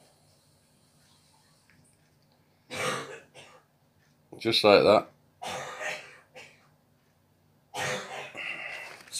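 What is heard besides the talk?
coughing and throat clearing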